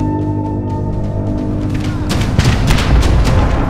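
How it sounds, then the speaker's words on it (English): Volleys of gunfire in a battle between samurai and conquistador forces, rendered as a sound effect: a low rumble grows into dense, overlapping booming shots that get louder and more crowded in the second half. "Both armies open with volleys of gunfire."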